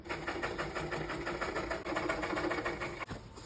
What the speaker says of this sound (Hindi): फर्स्ट मुझे पास में सिलाई लेनी है एंड देन मुझे फोल्ड करके फिर बाहर की तरफ और सिलाई लेनी है